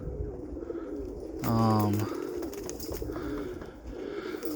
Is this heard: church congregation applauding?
no